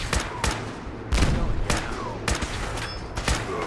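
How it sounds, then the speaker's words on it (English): Gunfire erupts in an intense Fallout 4 firefight: sharp, loud shots crack out in irregular bursts, some close and punchy, others trailing off, over a constant rumble of battle. "Whoa, this is an intense firefight."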